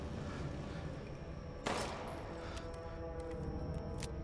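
Gunfire in Resident Evil Village, a sharp burst of shots about midway with a ringing decay, set against a dense, steady layer of game ambience and music.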